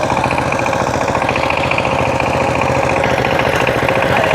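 A ploughing machine works a grassy rice field, its engine running close and loud with a steady, throbbing mid-pitched chug, heard alone.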